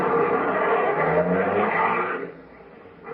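A car drives off as an old radio drama sound effect, its engine rumbling loudly and steadily at first, then fading as it pulls away.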